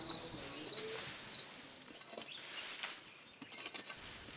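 High, thin chirps from farmed crickets trill in short bursts early on, faint and fairly close, amid quiet scattered rustling and soft ticks.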